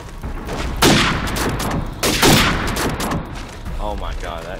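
Call of Duty 4 gunfire crackles in two loud bursts of rapid shots followed by fainter echoing pops, with no voices over the shooting.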